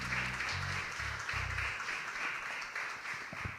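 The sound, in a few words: applause for the Lord in church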